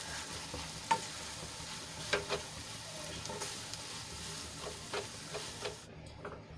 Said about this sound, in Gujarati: બધા મસાલાને આપણે સરસ રીતે મિક્સ કરી લઈશું